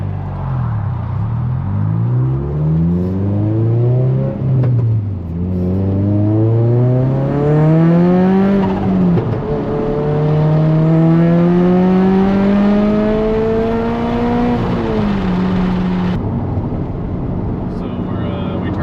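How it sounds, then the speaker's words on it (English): A turbocharged Toyota GR86 pulls hard at wide open throttle in third gear, its engine note climbing steadily in pitch through a loud, close rising drone, with a brief dip as it peaks and falls away. "We're going to go for 3rd gear, wide open throttle."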